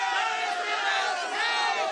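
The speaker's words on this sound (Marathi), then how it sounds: "एक टाळ्यांचा कडकडाट सगळ्यांसाठी." A crowd at a public election-debate gathering in Sangli claps and cheers in a steady, dense roar that stays loud and unbroken for the whole two seconds.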